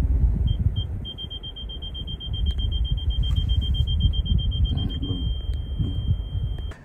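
Steady high-pitched electronic beep from a car's reverse parking sensor, sounding continuously over low rumbling engine and ambient noise while the car backs up over grass and dirt on an uphill parking spot.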